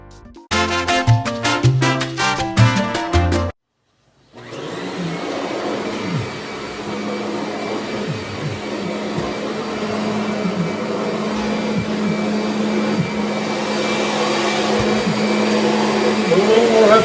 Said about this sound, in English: I can't hear you over this vacuuming